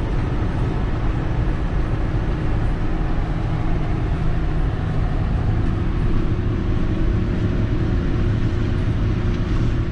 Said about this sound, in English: Ford TW20 on the Terra tyres with the Opeco 40-foot rolls